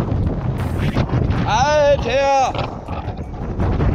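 Storm wind of force 9 at zero degrees on the coast buffets the microphone in a heavy, roaring rush, while a man exclaims briefly over it.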